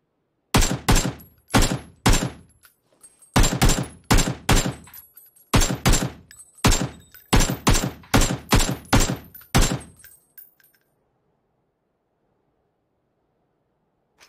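Gunfire in a shooter video game: loud, close bursts of sharp shots in rapid clusters over about ten seconds, then sudden silence.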